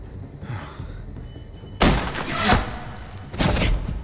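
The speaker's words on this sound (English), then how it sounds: "But I think we should shoot. I'm shooting." Gunfire in The Walking Dead Telltale game: a sudden loud volley of shots crashes in after quiet rumbling, rings out for a moment, and a second burst follows about a second and a half later.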